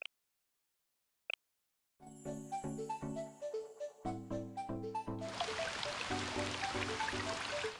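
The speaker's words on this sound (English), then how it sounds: "it's the sound of rain" Rain in the Blue Archive video game arrives as a dense, hissing wash that rises over gentle melodic game music with plucked, chiming notes, after a brief near-silent opening.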